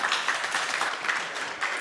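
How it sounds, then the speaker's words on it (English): Applause from a conference audience after a technical talk, a steady wash of many hands clapping at a moderate distance, continuous and fairly faint, with no speech. "big round of applause for Jarkko for this thought-provoking talk"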